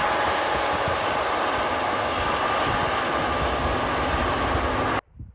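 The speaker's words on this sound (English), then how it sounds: "There's the train going up to the top." A train climbing Mount Washington gives a loud, continuous rumbling roar that holds steady for several seconds before cutting off abruptly.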